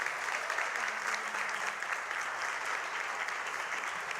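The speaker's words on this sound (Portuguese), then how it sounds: "Gente, mais uma salva de palmas" An audience at a talk show gives steady, sustained applause, a dense wash of clapping without a break and no voices on top.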